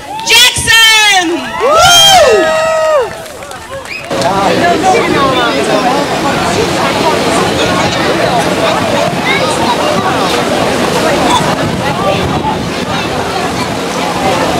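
A concert audience erupts into loud sustained cheering, whooping and applause as a performer is introduced, following a brief stretch of amplified announcer speech at the start.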